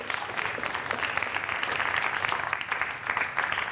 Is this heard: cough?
no